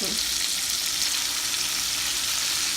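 Shrimp and sausage frying together in a pan for rasta pasta, giving a steady, loud, close sizzle with no breaks and no voices.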